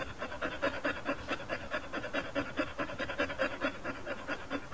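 A dog pants rapidly and rhythmically, steady quick breaths close by with no other sounds around.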